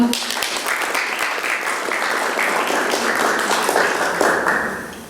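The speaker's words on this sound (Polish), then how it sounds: "Gratulujemy, wielkie brawa." An audience at a Polish ceremony awarding Prime Minister's scholarships to students claps continuously, a dense, steady wash of applause with some voices mixed in.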